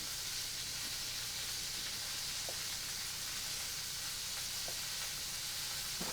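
Chicken and eggplant sizzle in a pan, a steady, even frying hiss with a few faint clinks, continuous and close with no talk.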